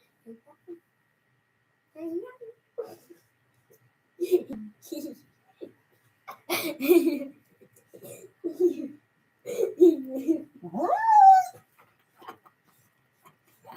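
A dog whimpers in short, soft bursts separated by quiet pauses, ending with a higher rising cry close by.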